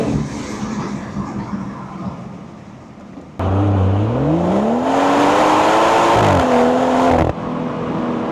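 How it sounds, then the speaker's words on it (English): A BMW M140i exhaust drones while driving, then a louder rising engine note climbs smoothly through the revs and drops back, steady and close with no talk. "It gives the 140i that M car sound that you'd want."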